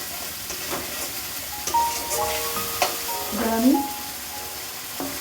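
Spice paste sizzling and frying in a pan while being stirred for a potato curry, with steady close crackle and scraping strokes; a voice speaks briefly over the cooking.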